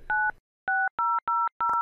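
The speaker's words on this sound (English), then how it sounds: "First dial 514-579-6000 on the outside phone." Touch-tone DTMF dialing on a telephone: five crisp, loud two-note keypad tones in quick succession, each short and separated by brief silences, with a bit of line noise before the first.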